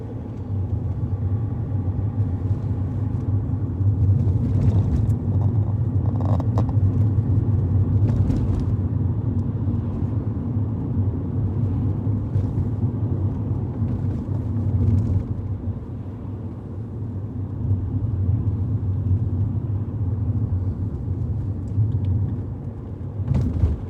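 An adapted car drives along a road, heard from inside as a steady low engine and road rumble with faint clicks and light rattles.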